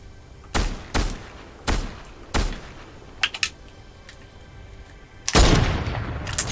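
Gunfire in the Fortnite video game: four separate sharp shots about half a second apart, then a couple of quieter quick pops and a final louder burst, up close with no talking.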